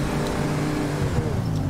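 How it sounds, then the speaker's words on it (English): Sustained engine drone from a car in GTA V, steady and loud throughout, with layered low harmonic tones that waver slightly as the revs hold high without letting up. "you can see what I mean about the engine constantly revving"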